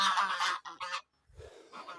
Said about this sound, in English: These are the geese.